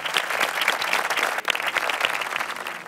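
A studio audience claps through a Ramzan iftar quiz show, with loud, dense applause and a brief dip midway.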